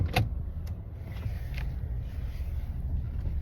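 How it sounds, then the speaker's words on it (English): Car driving on the road, a steady low rumble of engine and road noise with a few faint creaks and clicks from the cabin. "I'm still driving, of course"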